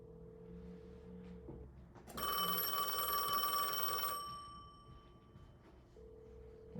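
A vintage business telephone system in a dorm rings once on an incoming call, a loud metallic bell burst of about two seconds over a low background hum.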